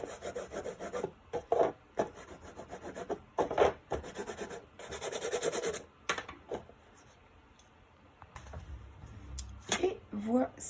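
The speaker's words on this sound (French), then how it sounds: "Je n'hésite pas à mettre un petit coup de plioir pour bien faire adhérer ma colle sur les bords de la boîte." A bone folder is pressed and rubbed along the freshly glued edges of a scrapbooking paper gift box, making close, dry scraping strokes in short bursts separated by brief pauses.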